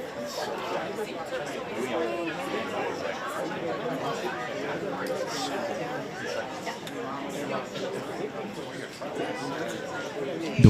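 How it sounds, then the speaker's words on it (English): Steady crowd chatter fills the room at a White House press event, many overlapping voices forming a constant, moderately loud babble, with a sharp knock at the very end. "Sounds like feeding time in the crowd."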